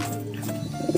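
Racing pigeons coo softly and close by during truck training, giving a brief, low, throaty murmur that lasts only about a second.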